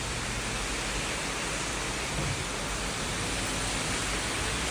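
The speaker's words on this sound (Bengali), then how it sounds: "আল্লাহর রহমতের বৃষ্টি পড়া শুরু হয়েছে" Rain falling on garden plants, including young eggplant plants, heard as a dense, steady wash of hiss with no breaks and no voices.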